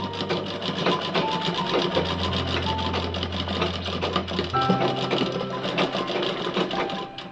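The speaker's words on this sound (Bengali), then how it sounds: "পুরোটা আমরা এইভাবে সেলাই করে নেব।" Sewing machine running steadily as it stitches a frilled sleeve, a continuous close rapid whirring with a low hum that shifts pitch partway through, no talking.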